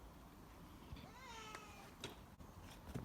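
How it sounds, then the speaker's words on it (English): A cat meows in a garage, a single drawn-out wavering meow near the middle followed by faint shuffling and small knocks, quiet and fairly close. "the cat is here with me"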